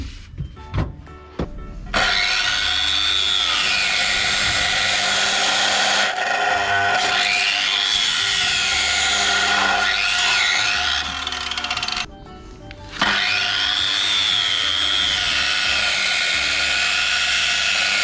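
A power tool saws 15 cm off a piece of wood while a 1973 VW Type 2 camper is being restored, a loud, steady high-pitched whine with rising and falling pitch, broken by one short pause, after some brief knocks.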